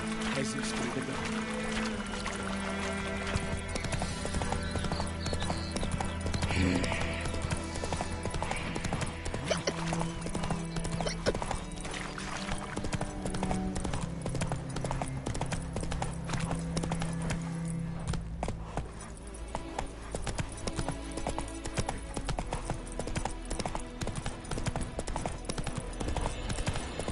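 Horse hooves clip-clop at a gallop in The Witcher video game, steady and close beneath continuous game music and ambience, with an occasional whinny-like call and no speech.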